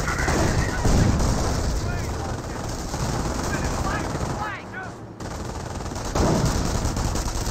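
Dense World War II gunfire in Company of Heroes 1, with rapid machine-gun bursts and rattling rifle fire, loud and continuous, mixed with battle noise and a commentator's voice.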